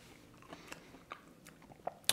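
Crunchy bites and chews of crispy, golden french fries, a few sharp crunches spaced out over a quiet background, ending with a louder close crunch.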